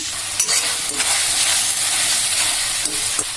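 Tomatoes drop into ginger garlic paste frying in a pan for capsicum curry, and a loud, close hiss and sizzle runs throughout, with a few faint knocks and scrapes.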